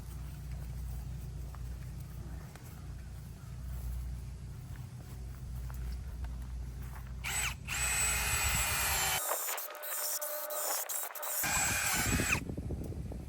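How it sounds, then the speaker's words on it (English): Power drill boring through a hole on a homestead build, starting faint beneath low rumbling background and then surging into a loud, close, steady whine near the end, broken by a brief pause. "the drill bit was actually through the other side, barely."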